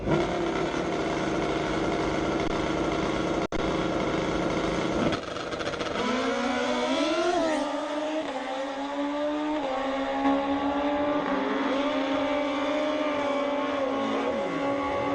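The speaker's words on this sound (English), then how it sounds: "Alrighty, time for the gaggle of motorcycles." A group of drag racing motorcycles, one of them a Suzuki, idle and rev at the start line of an ET finals meet, with a loud layered engine drone, rising and falling rev sweeps, and a sharp blip partway through.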